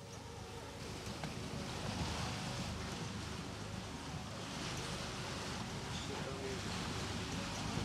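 A motor boat running off the Moroccan coast on the Atlantic, a broad steady rush of engine and water wash with wind buffeting the microphone, constant and fairly loud throughout.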